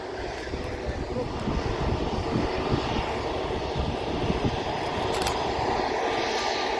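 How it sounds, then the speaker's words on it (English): A fixed-wing airliner lines up and departs at Manchester Airport, giving a steady, broad engine roar that swells slightly and holds at moderate distance for several seconds. "Next aircraft to depart, just lining up on the runway."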